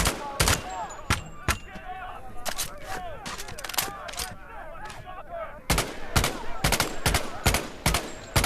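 Gunfire in the VR video game Medal of Honor: Above and Beyond, mostly from an M1 Garand rifle, with sharp loud shots in bursts and single cracks. Someone talks between and under the shots.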